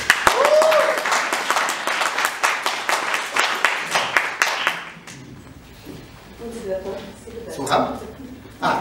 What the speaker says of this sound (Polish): wielkie brawa, Jany.